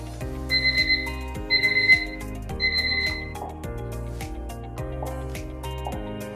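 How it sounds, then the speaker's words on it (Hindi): Automatic timer bell on a Waves 86-inch smart interactive panel: three short repeated electronic chime tones ring out near and clear, followed by quieter lingering tones over a steady background. "जब वो टाइम अप हो जाएगा तो वो जो टाइमर है वो अपने आप एक बेल दे देगा"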